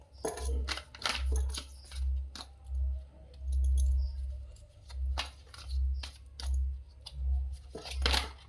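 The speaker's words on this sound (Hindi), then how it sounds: "दो कार्ड गिर गए हैं।" Tarot cards slipping and tapping during a shuffle, a run of light, sharp card clicks and flutters scattered across the stretch, close by and fairly soft over a steady low hum.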